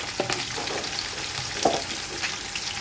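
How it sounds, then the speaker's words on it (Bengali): A large amount of onion fries in hot oil for khichuri, a continuous close sizzle broken by a few clinks and scrapes of a stirring spoon, with no talking. "এখন পেঁয়াজটাকে ভালো করে কষিয়ে নেব"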